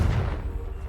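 A Confringo fire-blast spell from Hogwarts Legacy goes off as a deep, booming explosion, heavy and rumbling for under a second with no voice over it.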